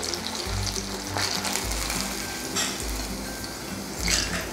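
Eggplant bajji slices sizzle and crackle steadily in hot oil, a continuous close frying hiss with occasional soft stirring bumps.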